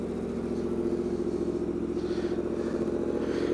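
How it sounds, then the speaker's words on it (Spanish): A Yamaha MT-10 motorcycle engine runs at a steady, close idle with a deep, even rumble that holds throughout, with no clear start or cut-off. "Este es el encendido y el apagado"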